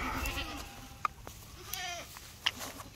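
A nanny goat bleats to her kids while being moved to greener pasture, a few wavering calls close by and moderately loud over outdoor background noise.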